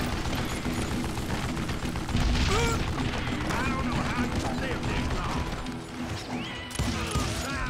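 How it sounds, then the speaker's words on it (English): Dynamite explosions and scattered gunfire in the Call of Juarez: Gunslinger western shooter, dense and continuous with heavy low booms, a mixed game soundscape with voices partly buried underneath. "Don't you dare fucking throw more dynamite at me"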